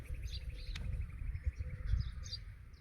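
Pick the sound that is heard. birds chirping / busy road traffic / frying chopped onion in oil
birds chirping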